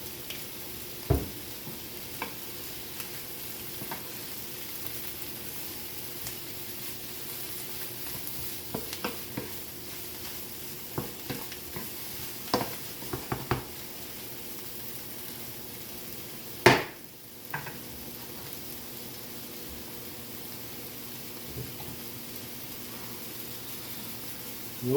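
Chicken and vegetables stir-frying in oil on a Flame Thrower grill: a quiet, steady sizzle broken by sharp clanks and scrapes of a utensil against the pan, with one loud knock midway.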